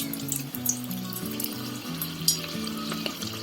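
Small pieces of leftover-rice pakoda batter fry in hot oil, giving a soft, continuous sizzle and crackle at low volume under a steady, tonal background.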